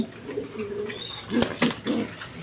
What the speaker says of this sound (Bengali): এখানে এক পেয়ার কবুতর আছে আপনার ব্ল্যাক বিউটি